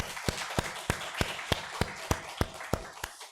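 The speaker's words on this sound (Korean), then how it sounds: "하나님께 영광의 박수 드리겠습니다." A church congregation claps in a steady, even rhythm, about three sharp claps per second in unison over a low background murmur.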